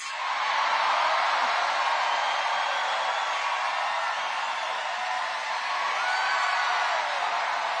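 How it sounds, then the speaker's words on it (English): A large political rally crowd at a Donald Trump campaign event roars and cheers loudly and continuously, a dense wash of whoops and yells with no break throughout. "I never knew people would cheer so loud for roads."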